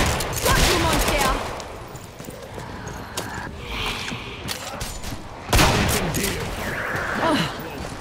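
Guns firing in the co-op shooter game Killing Floor, clusters of loud close bursts and rapid shots scattered across the stretch, with a sharp heavy blast midway amid game noise and brief voice.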